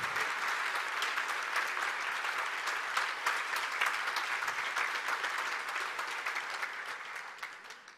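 Sustained applause fills a conference hall in Lomé as an audience cheers the event's president, a thick, continuous patter of many hands that holds strong for several seconds and eases slightly at the end.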